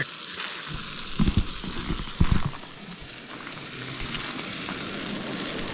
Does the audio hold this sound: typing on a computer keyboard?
no